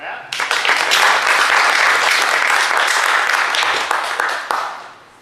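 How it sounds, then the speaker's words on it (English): A crowd at a dinosaur talk breaks into applause, clapping loud and close as the sound swells quickly and holds steady for a few seconds before tapering off. "Big round of applause for Matt."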